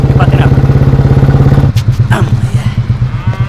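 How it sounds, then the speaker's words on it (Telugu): A motorcycle engine runs close by, its low steady chugging thrum continuing throughout with a rhythmic pulse that shifts slightly partway through. "బండి కొత్తదే, ఇంజిన్ పాతదే"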